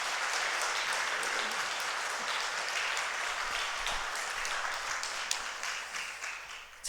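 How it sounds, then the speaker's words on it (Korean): Congregation applauding in a church after a choir's praise song during a Sunday service, a steady dense wash of many hands clapping throughout, fading slightly at the end. "여러분 박수 한번 부탁합니다."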